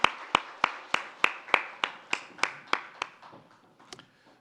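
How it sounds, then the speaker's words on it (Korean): A church congregation during Sunday worship claps about a dozen times in slow, even unison, each sharp clap distinct, the beats fading toward the end. "하나님께 영광의 박수 드립니다."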